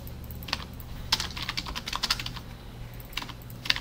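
Computer keyboard typing, including a Ctrl+E shortcut, in scattered quick bursts of key clicks with short pauses between, close and fairly quiet over a low steady hum, no voices.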